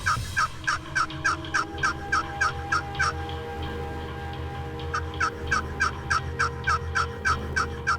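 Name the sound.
wild turkey gobbling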